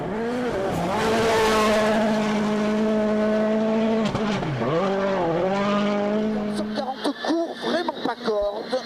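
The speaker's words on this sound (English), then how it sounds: "The final car to head towards the last flying finish was Citroën's record-breaking world champion, Sebastian Loeb." A Citroën World Rally Championship car at the 2012 Rally New Zealand roars past close by, its engine climbing and dropping through the gears, with rapid revs and popping near the end.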